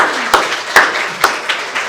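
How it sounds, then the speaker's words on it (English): Audience at a women-in-leadership luncheon applauding, a loud close patter of clapping with a few sharp individual claps standing out at regular intervals. "And so I think that deserves a round of applause."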